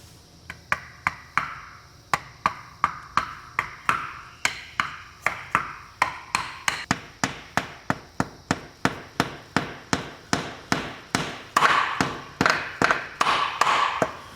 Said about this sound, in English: I'm changing over to this brass punch to take it the rest of the way home.